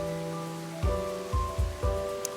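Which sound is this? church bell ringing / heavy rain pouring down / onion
heavy rain pouring down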